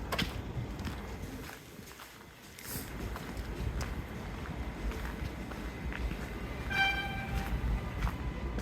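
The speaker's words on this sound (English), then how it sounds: "there's another train to Penn Station that's going to stop here" An LIRR commuter train pulls into Woodside station as a low, faint, steady rumble, with a brief high metallic squeal of wheels or brakes near the end.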